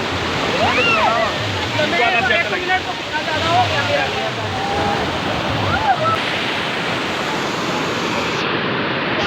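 Fast, cold mountain stream rushing in a northern valley, a loud continuous roar of churning water, with a person speaking and faint whistle-like calls over it.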